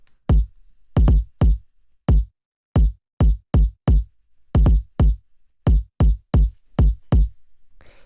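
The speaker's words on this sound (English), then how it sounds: "So this is a pretty simple kick, you know, it's just like this kind of punchy." A punchy, simple kick drum sample for an acid techno track hits alone in a loose repeating pattern, each thump short, loud and close with a quick decay and no other instruments.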